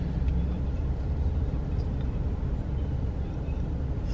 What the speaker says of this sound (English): Some strange cars.